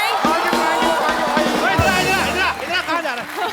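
A studio audience at The Kapil Sharma Show applauds and cheers loudly for Sonakshi Sinha, with a dense crowd roar and clapping throughout and voices and a music cue mixed in.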